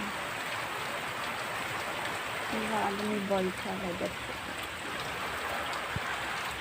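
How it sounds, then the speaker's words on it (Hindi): Heavy rain pours steadily outside a rural home, making a constant dense hiss throughout, while someone speaks briefly over it in the middle. "देखिए इतना बारिश पड़ रहा है"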